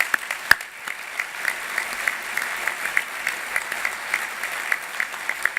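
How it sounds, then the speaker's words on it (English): Audience applause for farmers at a podium speech, a steady, fairly faint wash of clapping from a room full of people, with a clear rhythmic tapping running through it. "let's give a warm round of applause for the farmers here"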